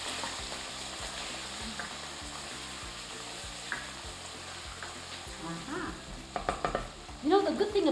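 Peppers and carrots stir-fried in a hot pan, a steady sizzle under a regular pulsing stir, with clattering tosses and louder bursts of frying near the end.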